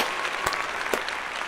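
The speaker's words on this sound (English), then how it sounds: "Let's give him a real applause here." Applause from a group fills the whole moment, a dense, steady patter of clapping with a couple of sharper claps standing out, heard briefly and with no talking over it.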